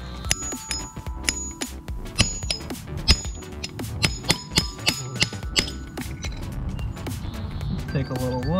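Sharp metallic taps on a cable crimping tool, a couple of bright strikes at the start followed by a run of regular clinking knocks close by, with speech-like noise and clatter around them during van electrical wiring work.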